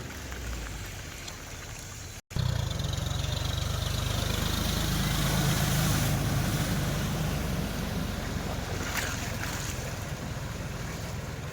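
A heavy, continuous rush of floodwater flowing across a road after a cloudburst roars close by after a brief cut, steady and loud with no voices.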